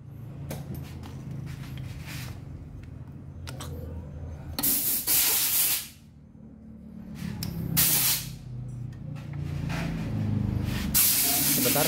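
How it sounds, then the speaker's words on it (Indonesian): The fuel injector on a Yamaha Lexy scooter sprays in repeated hissing bursts of varying length, close and clear, separated by quieter gaps with faint handling noise. "injektornya ya. Kita lihat durasi semprotannya."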